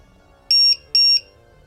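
An RC car battery voltage checker for a 2S pack gives two short, loud, high-pitched electronic beeps in quick succession, clear and alone.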